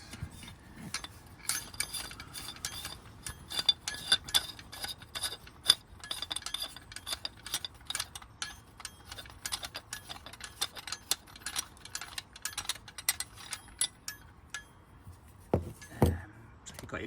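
Small metallic ticks and glassy clinks come in an irregular run as a Clapham & Morris No.4 miners' safety lamp is taken apart, close and fairly quiet, with a couple of heavier knocks near the end.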